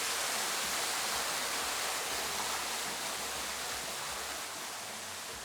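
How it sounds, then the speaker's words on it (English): The waterfall feature of a bath in a jungle villa runs steadily, a close, even rush of falling water that is quiet but constant throughout, with no other sounds. "you can press the jets, bubbles, and my favorite, the waterfall"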